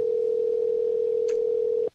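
After a phone call cuts off, a loud, steady telephone dial tone drones alone for about two seconds, with one faint click partway through, then stops abruptly.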